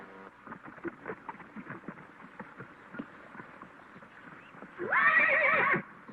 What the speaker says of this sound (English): What's Honey Boy doing here? He belongs with the herd